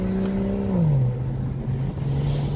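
A car engine revs as the driver downshifts, the pitch dropping smoothly as the revs match, then holding a steady drone under road noise inside the cabin.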